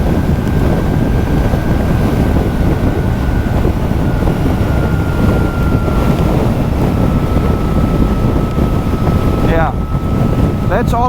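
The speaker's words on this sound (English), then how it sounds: "we have the full wind on our helmet here" Strong wind roars steadily against a rider's helmet on a 2024 Zero S electric motorcycle, loud and constant throughout with a faint high whine underneath and a few brief chirps near the end.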